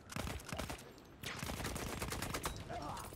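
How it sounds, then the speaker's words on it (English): Heavy machine gun fire in the video game Battlefield 1 rattles in rapid, dense bursts, loud and close, with a brief pause before the firing resumes steadily. "he has a heavy machine gun"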